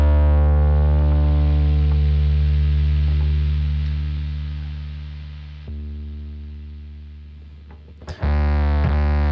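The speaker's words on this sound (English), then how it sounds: "So this is just the distorted amp." Bass guitar played through a distorted amp model on a Boss GT-1000CORE: one sustained, buzzy, gritty note that slowly fades, then a fresh pluck rings out loudly near the end; no voices.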